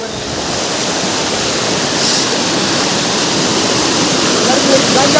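A hidden waterfall near Thirthahalli roars in a steady, dense broadband rush, loud and close, with no pauses across the whole stretch.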